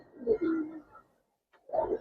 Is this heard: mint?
no